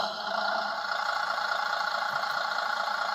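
Engine sound effect from a Bruder Sprinter toy van, a steady idling motor drone that keeps running evenly and stays close and unbroken.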